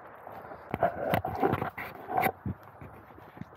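Dogs bark and pant close by in an old Bucharest building, a few sharp yelps and whimpers scattered over about two seconds, then quieter breathing sounds.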